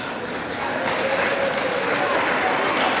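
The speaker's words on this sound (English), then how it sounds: "Lots of applause there." Members in the House chamber applauding during a speaker vote roll call, a dense sustained wash of many hands clapping at a steady level, with a faint murmur of voices underneath.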